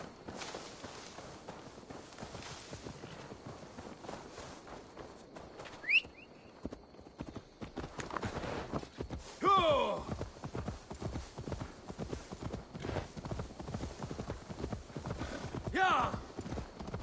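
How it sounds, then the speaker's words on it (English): Steady clip-clop of horse hooves at a walking pace throughout in the video game Assassin's Creed Valhalla, with occasional brief squeaks and light background noise. "Now to deliver Magni his horse"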